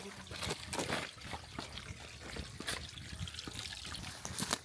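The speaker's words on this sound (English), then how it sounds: "There's this little river." A small river in the Lancashire countryside trickles and burbles steadily along a woodland walking path, a faint, continuous watery babble with small splashy accents.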